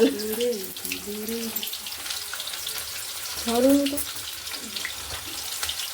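Onions fry in hot oil for a crab and fish curry, a soft, steady sizzle and crackle heard close, with people talking over it at the start and again midway.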